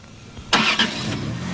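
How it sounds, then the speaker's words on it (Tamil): A vehicle engine bursts to life partway through and revs as it pulls away, a moderately loud mid-range roar rising over quiet background with no voices. "வண்டி போகுது."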